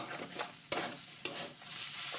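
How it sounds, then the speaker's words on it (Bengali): Vegetable chop filling with roasted spice mix is stirred in a pan, a quiet sizzle broken by two sharp scrapes of a spoon against the metal. "দিয়ে এবার ভালো করে নাড়াচাড়া করে"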